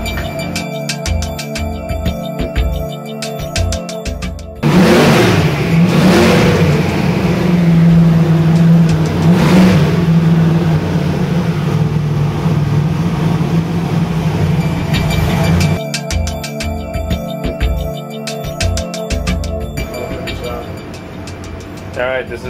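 A twin-turbo 454 small-block engine on a dyno runs a loud pull, roaring and rising steadily for about ten seconds in the middle, with quieter mechanical noise before and after.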